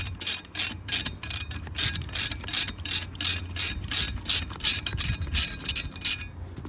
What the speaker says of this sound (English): So getting these out, just using the ratchet